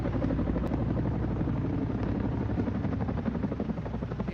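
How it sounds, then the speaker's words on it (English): Helicopter hovering over a burning warehouse roof during a structure fire, dropping water: a steady, continuous rotor thump and engine drone heard throughout at moderate distance, with no talking. "helicopters dropping water on the roof to help knock down that fire"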